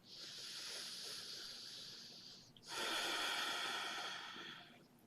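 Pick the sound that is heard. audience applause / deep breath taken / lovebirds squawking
deep breath taken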